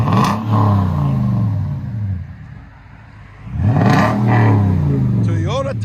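Deep V8 rumble from a 2020 Toyota Tundra TRD 4x4 with a 5.7L engine and CARVEN R Series exhaust, loud and close, swelling in two revving bursts with a quieter lull between, a brief voice near the end.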